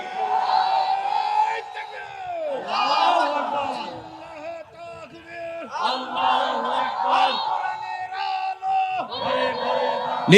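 A large crowd at a religious rally in Bogura roars takbir chants in loud, repeated collective bursts with brief gaps between them, voices layered and echoing.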